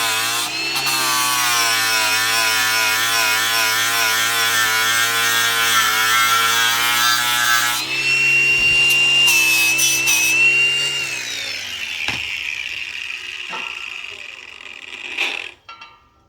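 A flap disc grinds against a powder-coated steel quick attach fork plate for a Cat 299 D2 XHP, with a loud, steady abrasive whine that holds for several seconds, shifts in pitch midway, then tapers off with a few scrapes.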